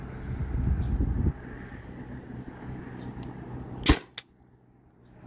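A Byrna TCR launcher, modified to run from a 20 oz CO2 tank, fires one sharp, loud pop near the end, followed by a fainter second snap, after a low background rumble.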